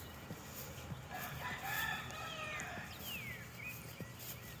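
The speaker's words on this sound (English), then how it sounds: "Oh, some of the baby chickens are out and some of them are still in." Chicks and adult chickens at a farm make soft clucks and occasional crowing-like calls, with scattered peeps and scratchy rustling, all fairly faint and continuous.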